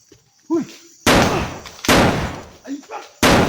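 Three sharp, loud gunshots from a game ring out at irregular intervals, each with a decaying tail, while a voice speaks briefly between them.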